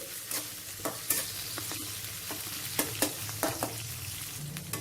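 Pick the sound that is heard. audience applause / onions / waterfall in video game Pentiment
onions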